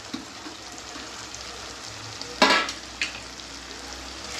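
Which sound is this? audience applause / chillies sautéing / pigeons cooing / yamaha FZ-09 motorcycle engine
chillies sautéing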